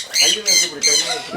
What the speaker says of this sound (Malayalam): സൺകുണൂർ എന്ന് പറഞ്ഞൊരു ടൈപ്പ് പക്ഷികളാണ് ഇവിടെ ഉള്ളത്.